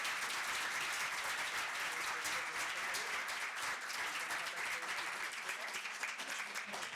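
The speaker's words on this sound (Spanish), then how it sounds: "un aplauso grande porque fue una participación muy buena" Debate audience applauding at the close of the event, a sustained, fairly distant and soft patter of many hands clapping at a steady level.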